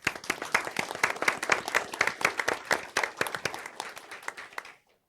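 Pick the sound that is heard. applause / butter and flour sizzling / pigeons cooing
applause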